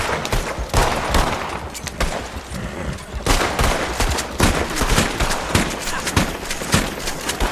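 Gunfire in Red Dead Redemption 2 Online, a dense run of loud overlapping shots and bursts that fire continuously at close range with no pauses.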